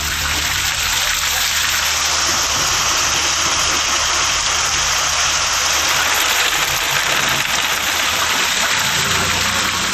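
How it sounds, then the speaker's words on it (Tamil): Heavy rain pours steadily with strong gusting wind around Aruppukottai in Virudhunagar district, Tamil Nadu, a dense, loud, unbroken rush of falling water lasting throughout. "விருதுநகர் மாவட்டம் அருப்புக்கோட்டை சுற்றுவட்டார பகுதிகளில் சூறைக்காற்றுடன் கனமழை கொட்டுகிறது."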